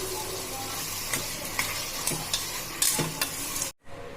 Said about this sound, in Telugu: మొత్తం బాగా కలుపుకోవాలండి